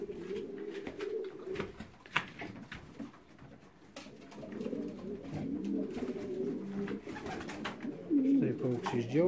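Racing pigeons in a Lithuanian loft give soft, low repeated coos and bird calls that run throughout, with a voice talking over them.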